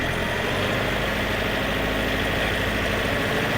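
A Yanmar YM351A 51-horsepower tractor, a 2023 unit with about 100 hours of use, runs steadily in high gear, its diesel engine giving a loud, continuous drone with a low rumble and no voices.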